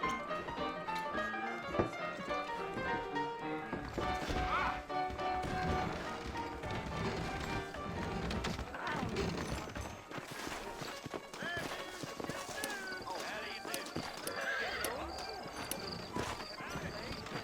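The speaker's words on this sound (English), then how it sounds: "I got the horses saddled up and ready out front." Saddled horses in Red Dead Redemption, a western game, give off scattered hoof clip-clops and faint whinnies beneath a busy mix of talking voices and background music, moderately loud throughout.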